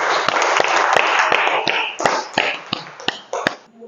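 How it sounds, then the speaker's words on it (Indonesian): Classmates clap for a presenting group in a classroom, with a patter of hands under a few sharper, louder claps at irregular intervals. The clapping thins out toward the end. "Kita beri aplaus yang meriah untuk mereka"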